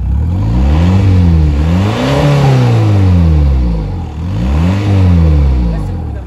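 A remapped diesel Volkswagen Golf engine revs repeatedly, loud and close, its pitch climbing and falling in several sweeping rises.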